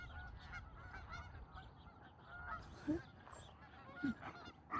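Several goose-like honks from ducks call out at a distance over a steady outdoor background hum beside a village road, with a few louder squawks standing out.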